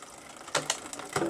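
Shimano 1x12 bicycle rear derailleur shifting gear, heard as three or four crisp mechanical clicks and ratchet-like ticks in quick succession, close and fairly quiet with no voices.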